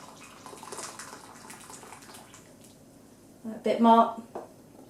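Boiling water from a kettle pours briefly into a Pyrex dish of skimmed milk, a short splashing burst near the end, with a voice speaking over quieter kitchen sounds.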